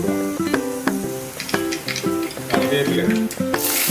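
Hot coconut oil sizzles with sharp crackles and pops as mustard seeds fry, punctuated by a few clinks of a utensil against the pan.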